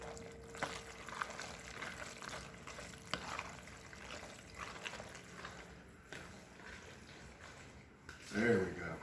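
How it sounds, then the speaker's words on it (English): Quiet, sloshy stirring of a loose, liquid-heavy mixture for Southern-style baked mac and cheese in a bowl, with soft wet swishes and a brief louder slosh near the end. "So you get that nice sloshy noise"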